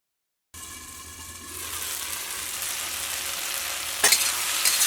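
Ginger and spices sizzle and fry steadily in a hot pan for a potato and soya chunk curry, the frying growing louder and busier, with a sharp clink of a utensil near the end.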